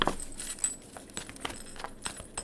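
Tarot cards being shuffled by hand, a run of soft papery riffles and light clicks at close range, uneven and stop-start, with no talk over it.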